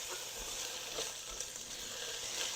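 Chopped green onions sauté in a pan for a low-carb veggie fried rice bowl, giving a soft, even sizzle that runs steadily throughout without talk.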